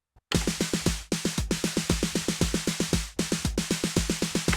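A 909 drum machine snare fill hammers out rapid, evenly spaced hits in short bursts with brief gaps, loud and dry, no voices.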